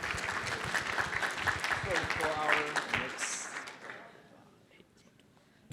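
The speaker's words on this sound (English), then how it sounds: "let's give them another warm round of applause" An audience at a conference production event applauds in a dense, fairly loud burst of clapping with a few voices mixed in, then fades out over the last couple of seconds into near quiet.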